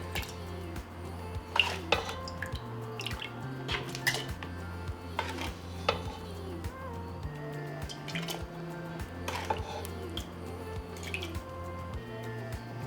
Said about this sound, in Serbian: sada ćemo sipati jagode unutra